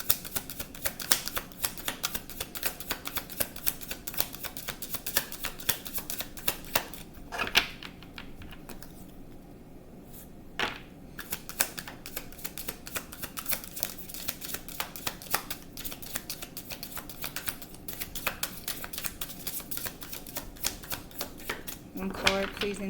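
Tarot cards being shuffled by hand during a card reading, a near-continuous close riffle of crisp rapid card flicks with a brief pause in the middle. A voice talks softly over the shuffling.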